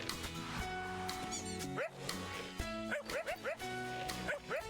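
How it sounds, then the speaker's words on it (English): Repeated cartoonish dog barks and yips from a video game ring out over busy game music, several short sharp bursts in quick succession, loud and close. "the fastest way is to just bark at them"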